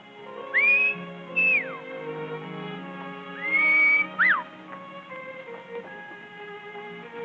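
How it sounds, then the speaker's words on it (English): A person whistles in a 1939 Western scene: two pairs of bright, rising-and-falling whistled notes stand out clearly over a soft musical background, with no talk. "I could have sworn I recognized that whistle."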